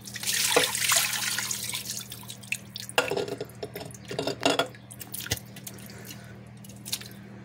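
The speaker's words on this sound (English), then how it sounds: "I will rinse the jars out a little bit, put some water in there" Water splashes and drips while jars are rinsed out in a kitchen during oxtail barley vegetable soup cooking, irregular sloshes and clinks of glass close by over a low steady hum, with no talk.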